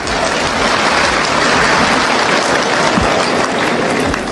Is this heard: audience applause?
yes